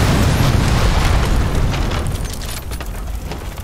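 A loud, booming explosion in a video game rumbles heavily at the start and then slowly fades into a rough roar.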